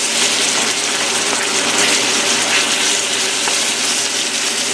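Dinner food frying in a pan, a loud continuous crackling sizzle held close and steady throughout, with no talking.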